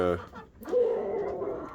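Chickens cluck at a feeder, a short cluck followed by a drawn-out vocal call nearby, with a voice briefly present at the start.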